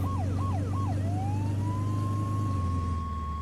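Emergency vehicle siren in the Flashing Lights game, a rapid yelping wail for about a second that shifts into a long steady tone, loud and close over a constant low engine drone.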